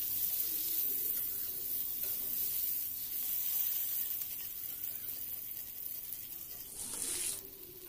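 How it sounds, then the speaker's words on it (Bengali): Potatoes cut into long strips fry in hot oil for a Bengali fish curry, giving a steady, fairly soft sizzle that fades a little toward the end. A brief bright hiss rises near the close. "ওই তেলের মধ্যে আলুগুলো ভেজে নেব।"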